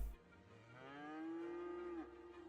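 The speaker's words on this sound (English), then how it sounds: "We got to put some Highland cattle in here." A Highland cow from the Cities Skylines farm game gives a single drawn-out moo that rises, holds steady and then drops off abruptly, heard close and clear against a quiet background with no talking.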